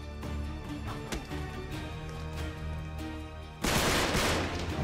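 Gunfire in the game Uncharted 3: Drake's Deception on PS4, rapid repeated shots with sharp cracks over a tonal game score, ending in a louder, denser burst of fire.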